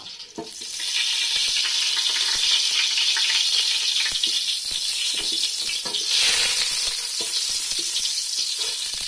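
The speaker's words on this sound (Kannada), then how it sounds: "ಬೊಕ್ಕ ಎಣ್ಣೆ ಬೊಕ್ಕ ತುಪ್ಪ ಕಾಯೋದು ಬಂದಾಗ" Oil and ghee heat and sizzle steadily in a pan for a Tulu-style kenda adde recipe, a dense continuous frying hiss that swells slightly midway, with occasional small clicks and no voices.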